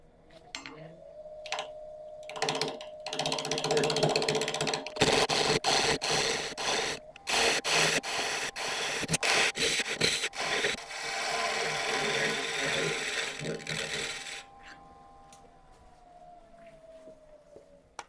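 A drill bores into a small turned ring held in lathe jaws, giving a loud, sustained grinding and rasping whine with brief pauses and restarts, then easing off near the end.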